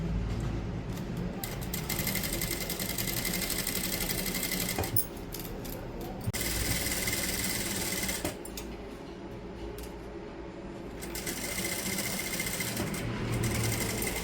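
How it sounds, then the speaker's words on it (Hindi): A domestic sewing machine stitches lace onto Kashmiri-style palazzo trousers in a close, rapid, rhythmic clatter, running in long bursts broken by short pauses as the fabric is guided. "सेम वही आप पूरे पे सिलते चले जाओ।"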